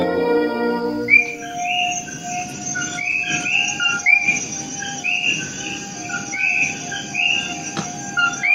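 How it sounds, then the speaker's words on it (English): Frogs in a rainforest garden call loudly in a steady chorus of repeated chirping, whistle-like notes over a background of insect-like trilling, close and continuous with no voices. "People think we have a recording going of the frogs, but we don't need a recording. They're so loud in there."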